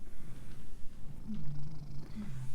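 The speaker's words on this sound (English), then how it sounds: "This is Goomba, my one-eyed kitty" A one-eyed cat purring close up, a steady low rumbling drone that fills the whole moment without pause or talk.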